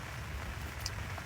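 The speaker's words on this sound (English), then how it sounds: "since it is raining, I'm certainly not going to spend all afternoon out here in the fucking rain" Steady outdoor rain patters on surfaces in a soft, continuous wash, with low rumble underneath and no speech.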